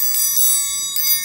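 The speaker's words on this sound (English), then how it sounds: "I've also got my bell." A hand bell rung in a few quick shakes, bright metallic clangs over a steady ringing tone that carries on between strikes.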